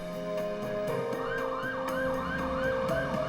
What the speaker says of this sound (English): The sound of ambulances were a common and terrifying reminder.